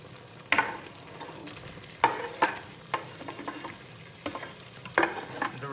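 A spoon stirs a red curry of chicken thigh, lentils, red pepper and tomatoes in a pan. Several distinct scraping strokes rise above a low background sizzle, irregularly spaced and close by.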